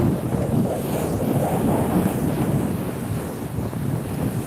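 Strong seaside wind buffets the microphone in a constant roar, with the wash of surf blending in underneath.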